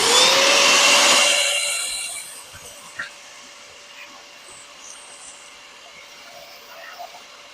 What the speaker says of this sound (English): let's turn this on and show you how this sucks up sawdust